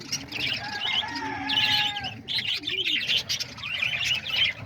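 Parakeets, lovebirds, cockatiels and diamond doves fill an aviary with dense, continuous high chirping and tweeting, layered with soft cooing and bursts of flapping wings, close and busy throughout.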